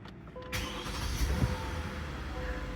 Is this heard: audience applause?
no